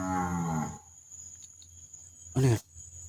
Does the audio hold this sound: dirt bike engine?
no